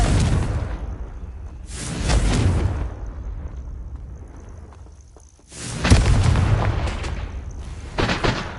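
Repeated loud blasts of the Confringo explosion spell in a PS4 video game, broad booming bursts with whooshing tails separated by quieter gaps.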